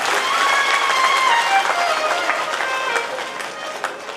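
An audience at a Shri Ram Katha gathering on the Ramlila ground in Lohaghat breaks into steady, energetic applause for a guest, a dense crowd clapping that holds at full strength throughout, with faint voices underneath.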